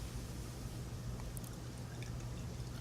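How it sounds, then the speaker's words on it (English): New Belgium Rampant double IPA is poured from the bottle into a glass, making a steady, continuous, fairly quiet trickling pour with no voices. "Let's pour it."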